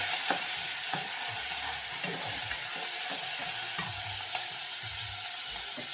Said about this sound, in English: I'm going to put white onion in first. Get it sweat. Use one of them spatulas.